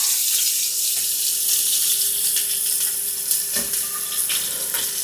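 Chopped garlic and onion frying in a pan for a chicken cacciatore, a steady close hiss of sizzling oil with a few faint knocks and no talking.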